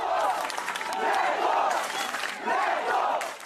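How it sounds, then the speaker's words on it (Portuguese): A large crowd of Chapecoense football fans roars and cheers outside as an ambulance brings a surviving defender home to Chapecó. Voices surge in loud, sustained waves of shouting. "Chegou a tempo de ouvir o grito que a torcida guardou no peito até agora."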